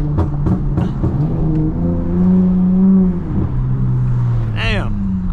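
A V6 Dodge Charger with a loud burbling exhaust revs hard as its wheels spin on a damp road, the engine note rising and falling steadily and close, with a person talking over it.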